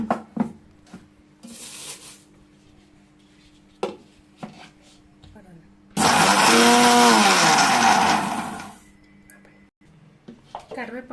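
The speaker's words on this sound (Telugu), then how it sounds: "ఇప్పుడు మనం కరివేపాకుని మిక్సీ పట్టుకుందాము." A mixer grinder whirs loudly for about three seconds while grinding roasted curry leaves into powder, set between clinks of utensils and a voice talking before and after.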